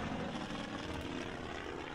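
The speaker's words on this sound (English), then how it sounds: "It's time for those torpedo bombers to get the heck out of here." Piston engines of departing torpedo bombers in a Pacific War strategy game drone steadily as a broad, continuous roar with no speech over it.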